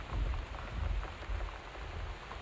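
Steady rain drums on surfaces in the video game Gone Home, a dense continuous patter with soft low thuds rising and falling, close and alone with no speech.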